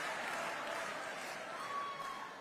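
Audience applause at a New Jersey governor's preschool funding announcement, a steady, fairly faint wash of clapping heard from a distance, sustained throughout with no talking.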